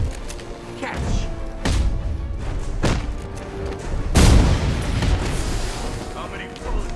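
Gunfire and booming impacts from the video game Batman Arkham Knight: several heavy thuds and shots over a few seconds, with one loud blast midway, set against a steady game backdrop with voices.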